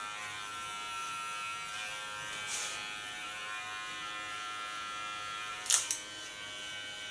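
Electric hair clippers cut hair close to the skin at the back of the head, producing a steady, quiet, close buzz with a couple of brief brushing rasps where the blade meets the hair.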